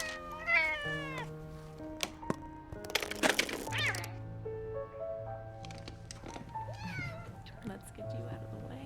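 Several drawn-out, wavering meows from a cat in the video game Telling Lies, close and clear over a background of steady tonal music, with a brief burst of noise between calls and a person talking.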